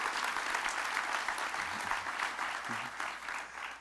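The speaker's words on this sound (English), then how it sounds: "Give another round of applause to Billy, Susanna, and Andre." Steady audience applause fills a gala breakfast hall, a dense sustained patter of many hands clapping at an even level throughout, without voices over it.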